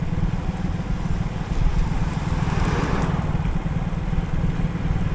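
A Super Splendor motorcycle with a rearward-bent handlebar and dead indicators putters steadily while being ridden, its low engine thrum continuous and close under faint wind.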